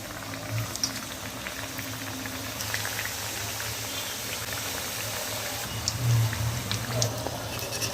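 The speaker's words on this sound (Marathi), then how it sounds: "आता हे आपल्याला छान खमंग असे तळून घ्यायचे आहेत" Potato dabeli kachori deep-fry one by one in oil in a deep kadhai over low heat, giving a continuous close bubbling sizzle with a few louder pops and surges, with no talking.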